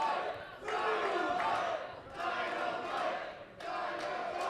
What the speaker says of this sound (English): Crowd firmly behind the challenger here.